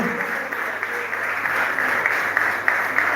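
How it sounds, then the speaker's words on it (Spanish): Sustained applause from an audience at a folk music peña, a steady dense wash of clapping holding throughout, fairly close, with a few louder individual claps rising near the end. "Pido un fuerte aplauso para los mozos, cocineros, sonido, presentador."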